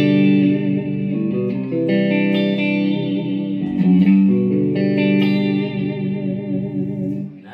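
Electric guitar chords through a Line 6 POD XT Live into a Marshall amp ring out with a shimmering, swirling clean chorus tone that shifts partway through to a thicker, distorted sound, steady and continuous.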